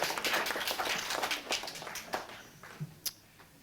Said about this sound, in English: a big applause for the award winners